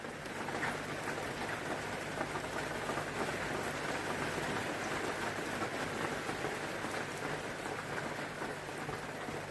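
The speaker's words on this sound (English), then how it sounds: "it's pouring down with rain" Heavy rain pouring down outdoors, a dense, continuous hiss of drops hitting surfaces at steady loudness with no talking.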